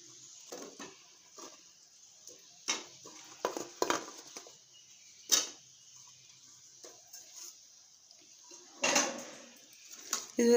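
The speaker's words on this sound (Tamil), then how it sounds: "இப்போ நம்ம வந்து இது சக்கரை பாகில் போட்டுடலாம்." Fried gulab jamun dropped into sugar syrup in a pan, with scattered close clinks, taps and scrapes of a utensil against metal, short sharp hits separated by quiet gaps, no talking.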